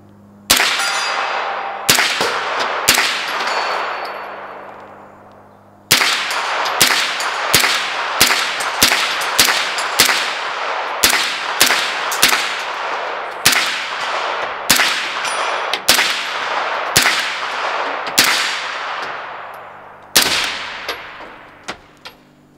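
An MP5 firing a 20-round magazine: about two dozen sharp single shots, each ringing out with a metallic clang. The shots come in an uneven rhythm, with a pause after the first few before the rest follow steadily. The firing is close and loud, and no one speaks.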